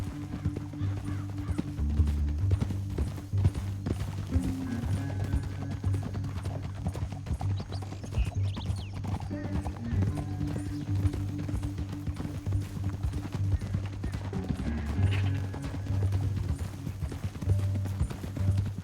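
Horse hooves clip-clop steadily at a trotting pace over a sustained low droning background, continuous and fairly close throughout, in Red Dead Redemption 2.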